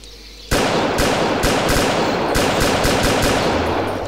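SKS rifle fire in the VietDoom mod for Doom: after a short quiet lead-in, a loud, close run of sharp gunshots cracks out at an irregular, rapid pace, each report ringing into the next, with no talk over it.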